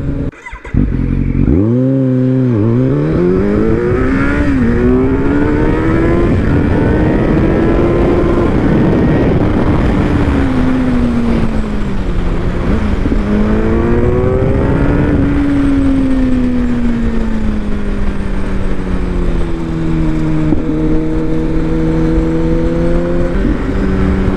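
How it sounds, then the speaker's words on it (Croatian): A 2021 Kawasaki Z900 motorcycle accelerating hard, its engine revving up through several gears with rising and falling pitch, loud and close throughout without talk. "Sad ćemo probati ovdje jedno onako ubrzanje da to bude bezbedno."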